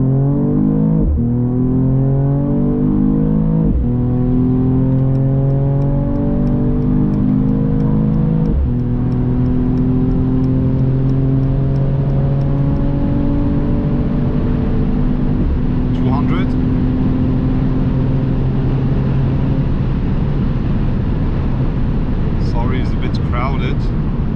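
A Mercedes-AMG E53 convertible, a 2021 model, accelerates hard with loud, rising engine tones that climb through several gears, each upshift marked by a brief drop and crackling pops, heard from inside the car.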